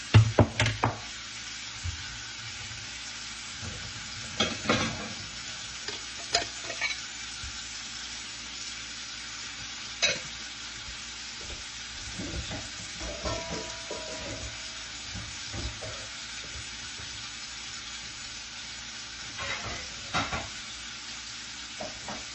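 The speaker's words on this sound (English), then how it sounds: "While this side is searing, we're gonna make a nice marinade that it's gonna cook in." Beef pot roast searing in a pan makes a steady broadband sizzle and fry throughout, with a few knocks and clatters of utensils scattered over it, close and fairly quiet, no voices.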